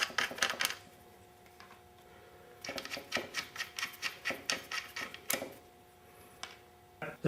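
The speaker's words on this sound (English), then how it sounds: "bolts with a wire brush to remove any rust and dirt before you put it back together." A wire brush scrubs rust and dirt off strut bolts from a 2000 Pontiac Bonneville, giving rapid rhythmic rasping strokes in quick bursts with short pauses, close and clear.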